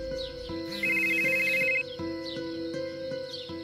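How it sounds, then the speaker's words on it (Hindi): A cartoon phone ringtone trills in a repeating electronic pattern with a bright chirpy tone, ringing steadily and loudly over a faint background tone. "राजू हेमंत को फोन करता है।"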